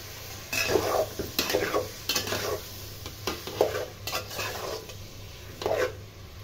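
Mango pickle being fried and stirred in a pan for a sweet, sour and spicy pickle, with a steady sizzle and repeated scraping strokes of a spoon against the pan at an uneven rhythm, close and moderately loud.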